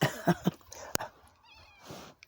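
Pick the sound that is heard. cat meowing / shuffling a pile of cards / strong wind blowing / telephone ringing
cat meowing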